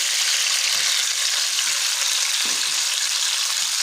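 Chopped onions frying in ghee, a loud, steady close-up sizzle with faint stirring knocks now and then and no talking.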